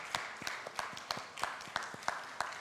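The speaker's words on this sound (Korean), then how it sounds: "우리 감사하다고 박수하겠습니다" A church congregation claps during a Sunday worship service, a faint, fairly steady run of separate hand claps without voices.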